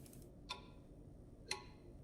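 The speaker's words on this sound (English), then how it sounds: "That clock is really loud." A loud clock ticks in The Last Caretaker video game, two sharp isolated ticks about a second apart over a quiet low background hum.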